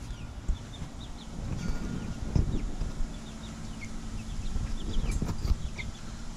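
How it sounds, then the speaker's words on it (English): Six chickens in an outdoor coop run on a morning, giving faint scattered clucks and chirps over a steady low outdoor rumble, with a few louder bumps. "So the chickens are out this morning enjoying their little coop"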